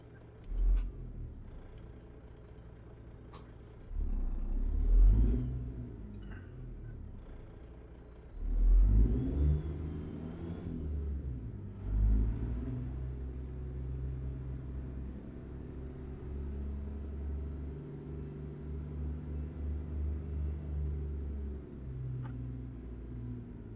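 A Freightliner Argosy truck engine in American Truck Simulator, hauling about 57,000 pounds: a mid-pitched diesel drone rises and falls through several revving surges, with a steady whine holding over a continuous low rumble.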